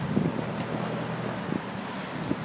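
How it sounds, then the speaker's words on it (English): Gusty wind buffeting a microphone outdoors in downtown St. Thomas, a continuous low rumbling roar with no voices. "Ooh, it got windy."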